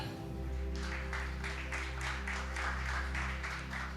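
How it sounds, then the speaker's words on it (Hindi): A church congregation claps for their neighbours, a run of rhythmic, evenly spaced claps in unison over a steady low hum from the hall's sound system, fairly faint and distant. "पड़ोसी के लिए जोरदार तालियां"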